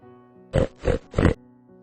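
Three quick, gruff grunts in a row, close and even, like a pig oinking.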